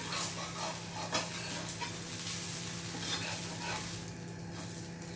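A masala dosa sizzles steadily on a hot pan after being flipped to its other side. The frying hiss is soft and continuous, with a few faint scrapes and a low hum underneath.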